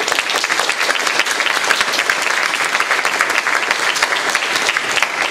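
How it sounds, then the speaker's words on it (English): Sustained applause from a live debate audience, dense and steady clapping for the debaters, filling the room throughout with no talk over it. "I want to give one more round of applause for both of our debaters"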